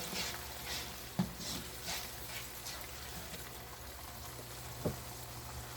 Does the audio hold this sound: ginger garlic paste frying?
yes